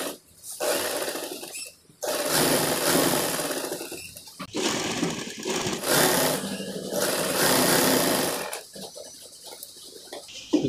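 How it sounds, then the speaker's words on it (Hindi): A sewing machine runs in long, loud, close bursts of rapid stitching while attaching fabric piping along a sleeve, stopping briefly between runs. "यहाँ पे सिलाई लगा लेना है।"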